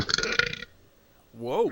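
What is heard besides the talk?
burp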